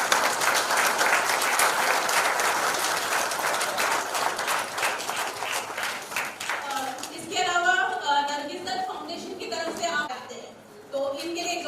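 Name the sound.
audience applause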